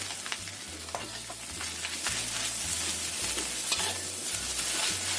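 Rice vermicelli frying with sesame oil in a pan, a steady sizzle with repeated scraping and stirring strokes over a low, pulsing background hum.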